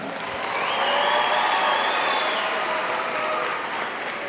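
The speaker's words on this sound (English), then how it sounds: "how about a round of applause for our Red River Marching Band, huh?" Crowd applause for a high school marching band at a school celebration day, steady clapping with a faint whistle or cheer rising over it, moderately loud and continuous.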